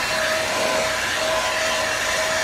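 A heat gun or hair dryer blows steadily while warming decals on a VW Super Beetle, giving a constant close-up whooshing hiss with a faint whine throughout.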